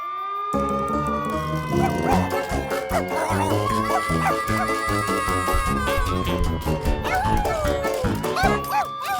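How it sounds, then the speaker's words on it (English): Cartoon dog barking and howling in an animated children's show, layered under a loud, busy musical score that runs the whole time. "Was that your dog barking?"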